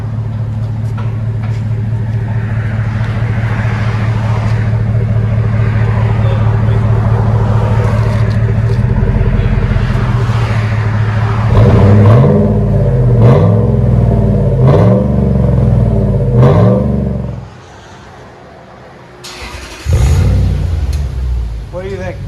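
An SUV fitted with Flowmaster Super Tins exhaust idles with a deep, loud rumble, then revs hard in several quick rising-and-falling bursts. The engine drops off briefly before one more rev. Voices can be heard around the engine.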